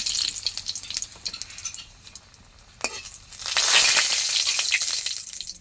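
Dried red chillies and bay leaves dropped into hot oil in a wok, a quiet crackle that bursts into a loud, steady sizzle partway through and carries on to the end.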